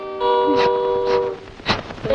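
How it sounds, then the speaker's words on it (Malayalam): A train sounds a long tonal horn in a short, loud burst, with brief rattling pulses underneath as it approaches. "ദൂരെ നിന്നും ട്രെയിൻ വരും."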